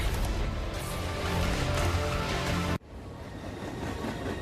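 A train rolls along railway tracks in a loud, steady rumble that cuts off abruptly partway through, leaving quieter ambient noise.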